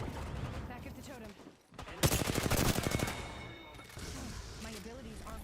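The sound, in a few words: gunfire in the video game Apex Legends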